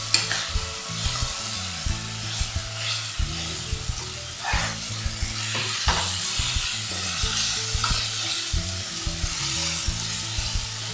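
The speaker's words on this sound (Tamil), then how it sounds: "இதையே நீங்கள் கொஞ்சம் நேரம் வதக்கிக்கிட்டே இருந்தீங்கன்னா எல்லாம் சேர்ந்து நல்லா மசிஞ்சு வரும்" Onions and masala sautéing in a pan for a Tamil-style prawn curry, with steady sizzling and frying broken by repeated scrapes and stirs of a utensil against the pan, close and continuous with no talk.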